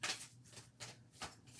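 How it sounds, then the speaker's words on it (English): Tarot cards shuffled by hand in three quick riffling bursts, each a crisp papery flutter, close and fairly quiet with short pauses between. "And I'm gonna shuffle."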